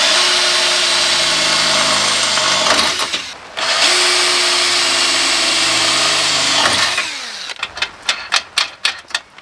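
A power drill whines at steady speed for several seconds, dips briefly, then runs again while fixing custom intercooler brackets under the front of an EK Honda Civic during a turbo kit install, ending in a run of sharp clattering taps.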